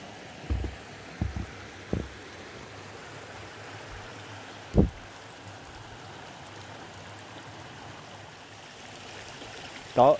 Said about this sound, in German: Da hier kommt ein anderer großer Bach runter.